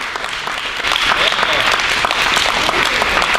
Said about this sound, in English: let's hear it for Stan